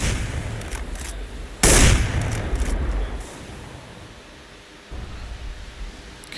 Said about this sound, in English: A little bit of wall bang going on.